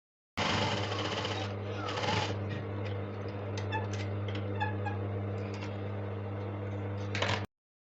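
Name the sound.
sewing machine stitching a line on a shirred dress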